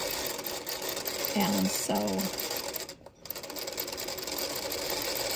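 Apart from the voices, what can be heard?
featherweight sewing machine sewing around a flower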